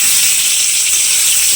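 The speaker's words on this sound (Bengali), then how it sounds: "এখানে আমি এখন পটলটা ভাজছি" Pointed gourd (potol) frying in a pan of hot oil, a loud, steady close sizzle with no break.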